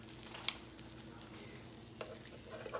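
Keto corn dogs frying in a pan with overflowed batter, giving a soft, steady sizzle close by with a few small pops and a light scraping touch, no talking over it.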